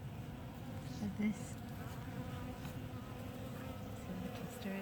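Honey bees clustered on several seams of frames inside an open hive, a soft continuous buzzing hum close by with a few brief louder buzzes, and no talking.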